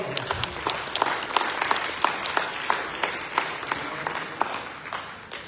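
Applause from the audience at a national town hall meeting on mpox and health security, dense steady clapping with sharp individual claps scattered through it, sustained for several seconds before beginning to thin out.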